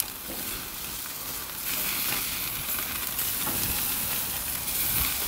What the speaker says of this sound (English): All right, got a lot of flame ups happening